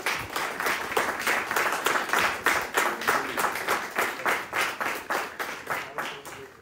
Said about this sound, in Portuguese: acho que é uma salva de palmas, está bem?